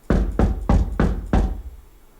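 Five firm knocks on a door in a steady, evenly spaced rhythm, treated with stairwell reverb so each thud rings out briefly in a hard, echoing space.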